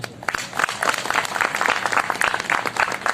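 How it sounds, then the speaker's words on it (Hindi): An audience at a company group meeting in Jaipur claps in a dense, sustained round of applause, steady and fairly loud throughout. "आप सबके लिए एक ताली होनी चाहिए।"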